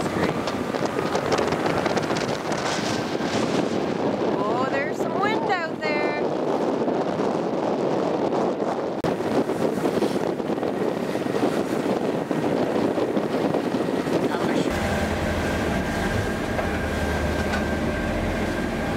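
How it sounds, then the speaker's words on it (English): Strong wind of 15 to 20 knots buffets the microphone in a steady roar on a sailboat in Howe Sound, with rushing water beneath, while voices talk faintly partway through. "And it's very windy, so we are in for a great sail."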